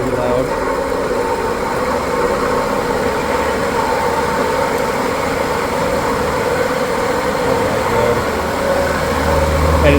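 A Pakistani wall or exhaust fan runs loudly, giving a steady, dense whooshing roar with a low hum underneath that continues unbroken, with some talking in the background.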